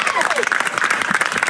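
Cheering crowd at a Little League softball game, loud and steady roar of voices with claps and whoops throughout, a speaking voice mixed in underneath.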